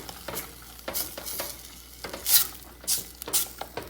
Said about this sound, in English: Give that a light little stir.